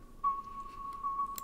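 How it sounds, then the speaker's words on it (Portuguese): Flute-like synth sample in an FL Studio beat, a single sustained whistly tone holding steady for over a second, moderately quiet with light airy texture and no voices. "É tipo uma flautinha."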